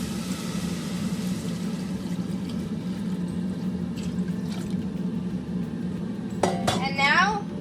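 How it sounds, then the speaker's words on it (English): Water is poured into a pot of burned onions for French onion soup, a steady close liquid rush with metallic pot and utensil clinks, ending in a sharp sizzling hiss. "Now you just mix it a little bit and add the 4 cups of water."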